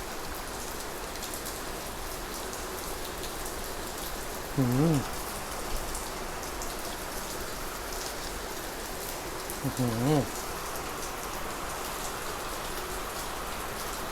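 Rain falls steadily outdoors at a picnic, a continuous dense patter throughout, with two brief murmured vocal sounds rising over it.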